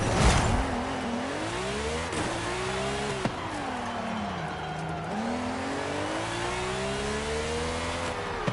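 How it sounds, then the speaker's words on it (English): A race-style engine billed as Formula 1 revs hard and close, its pitch climbing and falling through a sustained high whine with sharp harmonic sweeps, a brief squeal at the start, and no voices. "Mate, this engine is a Formula 1 engine."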